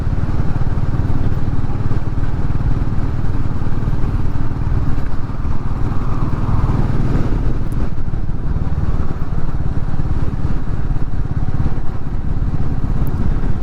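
Royal Enfield Meteor 350 motorcycle cruising in fifth gear at around 40 to 50 km/h, a loud, steady, low engine thump with road and wind noise running throughout and no talk.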